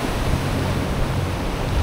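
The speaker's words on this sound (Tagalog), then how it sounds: "Napakalakas ng mga alon guys." Strong ocean surf at a beach resort in San Roque, Northern Samar, a loud continuous roar of breaking waves mixed with wind buffeting the microphone.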